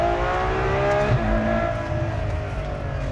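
A Ferrari 812 Superfast accelerates, its engine roaring with a rising pitch, then a brief dip near one second as it changes gear, loud and close, no voices.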